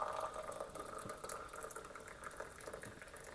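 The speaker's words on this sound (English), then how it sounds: "Let's put some boiling water in there." Just-off-the-boil water streams from a kettle into a cup, a faint, steady trickling pour that runs for a few seconds with no talking.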